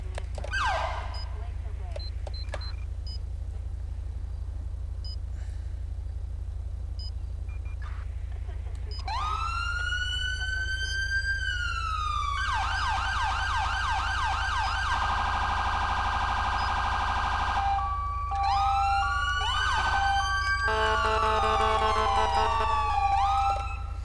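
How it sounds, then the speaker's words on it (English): A police car siren in a video game wails and yelps in rising, falling sweeps over a steady low hum, loud and close, with a voice speaking over part of it. "Turn on the lights and sirens."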